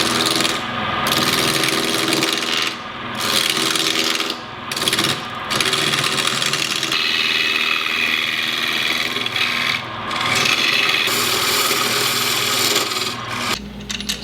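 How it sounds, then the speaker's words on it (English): Wood lathe turning down a glued plywood block held between centers, a loud continuous scraping and rasping of the tool cutting, with short breaks and rhythmic dips as the cut repeats. "we're going to turn this down so that it can be held in our chuck jaws"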